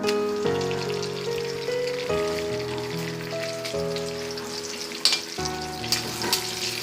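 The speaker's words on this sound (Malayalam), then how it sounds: "വറ്റമുളകും വേപ്പിലയും കൂടി നമുക്ക് ഇതിലോട്ട് ആഡ് ചെയ്ത് കൊടുക്കാം." Dried red chillies and curry leaves crackle and sputter in hot coconut oil, the frying a steady rain-like patter beneath sustained background music, with a sharper burst of popping near the end.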